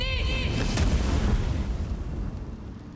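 Fire ability spell effect in Baldur's Gate 3: a loud booming burst with crackling flame that rolls on and gradually fades, following a short chiming tone at the start.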